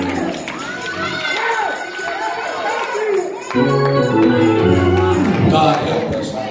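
A church congregation shouts and cheers during a worship service, a loud dense wash of many voices with overlapping calls, close and sustained, blending into music with sustained tones toward the end.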